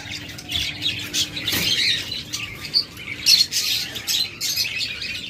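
A pair of pet lovebirds squawks and chirps in repeated harsh bursts, fairly close and steady throughout, with brief louder peaks and no talking.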